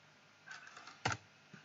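A few quiet keystrokes tap on a computer keyboard during coding, with one sharper click standing out among faint, scattered presses.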